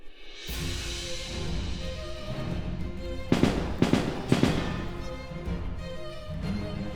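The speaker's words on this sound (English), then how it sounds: "activate your rocket boots, firing huge flame from your feet boots" Rocket boots in ToME: Embers of Rage shoot a huge flame from the feet, heard as a sustained whooshing roar punctuated by several sharp crackling bursts near the middle, moderately loud.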